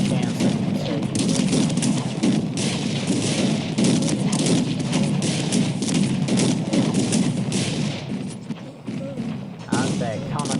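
Musket volleys crackle through a Cossacks 3 battle, a dense, continuous spread of overlapping shots and thuds at mid distance, with someone talking over the fighting.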